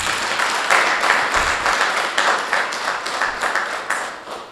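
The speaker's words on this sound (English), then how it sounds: "Can we give a round of applause for that?" An audience at a political branch launch event in Limpopo gives a loud, sustained round of applause, dense overlapping claps with slightly irregular surges throughout.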